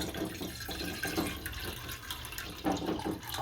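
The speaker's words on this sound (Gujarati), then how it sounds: "આમાં પાણી નાખશું।" Water pours steadily into a cooking pot for boiling peeled, chopped potatoes, a continuous close splashing gush that holds at an even level throughout.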